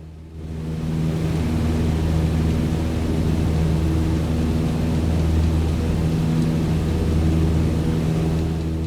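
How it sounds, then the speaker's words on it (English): A Cessna 152 engine drones in Microsoft Flight Simulator, a loud, steady cockpit hum that fades in and holds for about nine seconds with no voices over it. "the engine sputtering back and forth"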